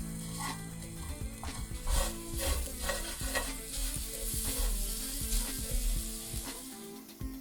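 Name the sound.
stirring potatoes sizzling in a skillet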